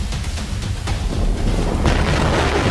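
Deep rumbling booms from bombing during the Russia–Ukraine war roll in a low, heavy wash that swells louder partway through, with no talking over it.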